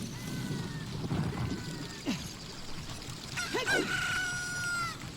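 Chickens in The Legend of Zelda: Ocarina of Time, with a rooster-like crow and clucking calls rising over steady game background sound, a longer call near the end.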